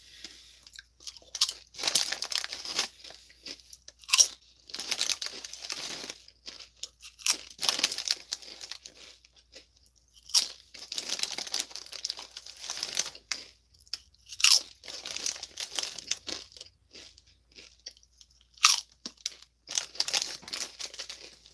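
Doritos tortilla chips being crunched and chewed close up, with loud, irregular crisp crunches and crinkling bursts repeating throughout without speech.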